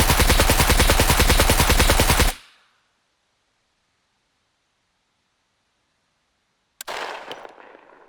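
An RPK light machine gun fires a rapid, loud automatic burst of about two seconds in the video game SCUM, then cuts off into near silence before a short, sharp clatter near the end.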